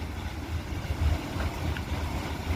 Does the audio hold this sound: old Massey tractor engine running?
yes